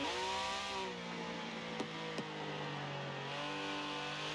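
A 1966 Porsche Carrera 6 engine in Forza Horizon 4, heard from outside the car, revving high and then dropping back, with two sharp gear-change blips in the middle and a rise again at the end.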